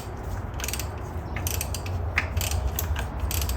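Rapid ratcheting clicks come in short bursts as a nut is hand-tightened onto a Saab 900 starter, close up over a low steady hum.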